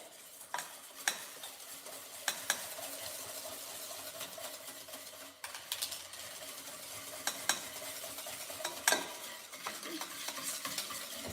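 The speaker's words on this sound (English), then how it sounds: "And then just mix it." Half and half being stirred into banana cream pie filling in a bowl by hand, a steady soft scraping and swishing with occasional sharper clinks of the utensil against the bowl, close and fairly quiet, with no talking.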